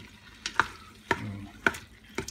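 Chicken thighs sautéing in an Instant Pot for ginger-garlic-soy chicken, stirred with four evenly spaced scraping strokes over a low sizzle, close and fairly quiet.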